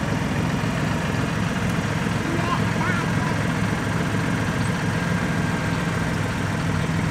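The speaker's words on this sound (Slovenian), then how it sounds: "Kakšen velik traktor je" A big tractor engine idles in a steady low rumble that runs unbroken throughout, with voices faintly in the background.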